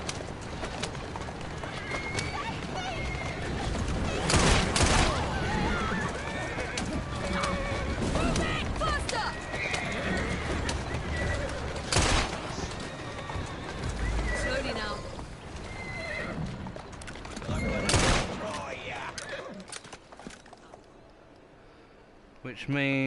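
Horse neighing and hooves in Assassin's Creed Syndicate, a busy game soundscape with sharp loud bursts that could be gunshots, plus talk over it throughout.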